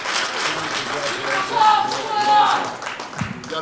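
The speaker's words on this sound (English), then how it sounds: "let's give the champ a round of applause" A crowd at the MGM Grand claps for boxing champ Deontay Wilder after his seventh-round knockout of Luis Ortiz, steady moderate applause in a room with voices mixed in.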